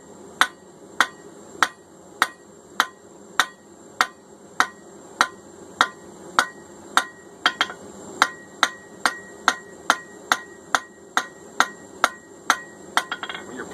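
Steady hammer blows planishing S7 tool steel while forging a drift, ringing metallic strikes about every half second, around twenty-five evenly spaced hits with a few quick doubled taps near the end.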